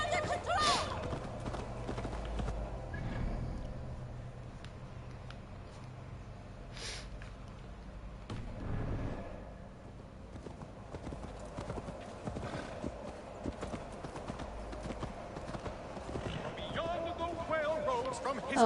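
Horse hooves clip-clop steadily in a PS5 game set in Viking-era Eurvicscire, a continuous rhythmic trot under game music and ambience, with a brief whinny and voices speaking at times.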